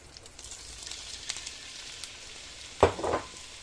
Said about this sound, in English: leave it to just fry for like 2 minutes